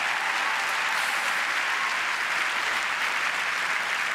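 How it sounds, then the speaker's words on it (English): A large theatre audience at the Olivier Awards ceremony applauds loudly, dense even clapping that stays constant throughout with no voices above it. "Let's start with a little round of applause there,"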